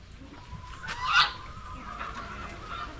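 A faint honking cluck from a fowl pops up briefly against a quiet outdoor background.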